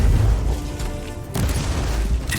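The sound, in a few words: explosion in Warhammer 40,000: Inquisitor - Martyr video game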